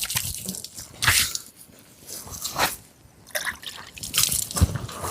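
Cold water splashes and drips in irregular bursts as someone washes their face outdoors at a hill fort, close and moderately loud, with wet squishing between splashes.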